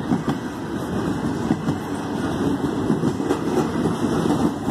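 Canadian National 3868 freight train going through Effingham, Illinois, a steady low rumble of rolling railcars with faint rhythmic wheel clatter, moderately loud and continuous with no voices.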